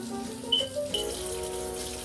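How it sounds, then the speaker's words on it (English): Tap water runs steadily into a sink to rinse chicken feet for coconut chicken foot soup, a close, even stream with a couple of brief clinks and no talking. "we're gonna go ahead and get some water"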